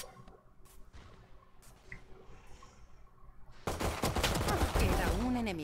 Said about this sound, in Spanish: Gemma, esa pistola tiene doble disparo